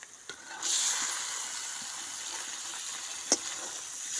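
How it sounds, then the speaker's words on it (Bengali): Marinated country chicken stirred into fried spice paste in a pan, a steady soft sizzle throughout with a couple of brief knocks from the stirring utensil. "এবার ম্যারিনেট করা মাংসটা মশলার মধ্যে দিয়ে ভালো করে নেড়ে চেড়ে নেব।"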